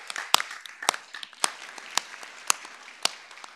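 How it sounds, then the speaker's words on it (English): Scattered applause from a small group at a school board meeting, with sharp individual claps standing out unevenly over a softer patter of hands. "Let's have one more round of applause for them."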